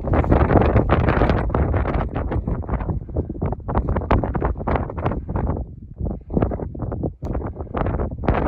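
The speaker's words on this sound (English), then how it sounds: "It's very windy." Heavy wind buffets the microphone in loud, irregular gusts on Ben Cruachan in the Scottish Southern Highlands, roaring and dropping in quick surges with no voices, like standing exposed on an open mountain height.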